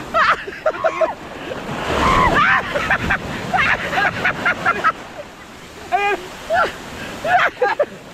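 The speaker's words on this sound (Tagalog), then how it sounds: "Sinampal ako ng alon!" Waves surging and washing in close by, with people shouting and talking excitedly over the rush of water.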